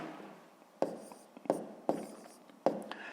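Handwritten numbers go down on paper in a math exercise, heard as four sharp, close taps and scratches of a pen spaced about half a second apart in a quiet room.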